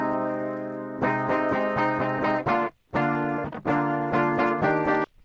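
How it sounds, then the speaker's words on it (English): Dry electric guitar plugged straight in with no amp or cabinet, playing strummed chords in bursts with a brief gap before resuming; thin, bright and close, with no voice over it. "So this is your DI tone."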